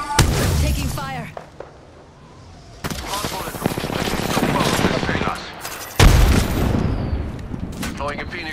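Gunfire in the battle-royale game Apex Legends comes in several sharp bursts of rapid shots separated by brief lulls, loud and close, with voices heard between.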